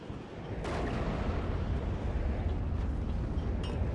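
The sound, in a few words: explosions and artillery fire in WARNO video game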